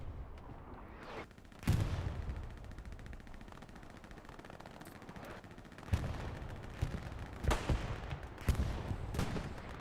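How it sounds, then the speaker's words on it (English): Distant artillery and scattered gunfire in Hell Let Loose, a World War II shooter in a competitive 49 versus 49 match, with sharp isolated reports and dull booms punctuating a steady low battlefield rumble. "Lots of artillery coming in, focused on Southern Edge."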